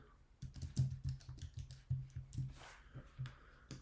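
Rapid keystrokes on a computer keyboard while code is typed, a close, steady run of clicks with short pauses and uneven rhythm, heard alone without talk.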